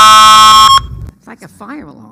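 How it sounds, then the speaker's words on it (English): A loud, steady electronic buzzer like a fire alarm blares at a town board meeting for under a second, then cuts off, followed by people talking in the room. "It's like a fire alarm."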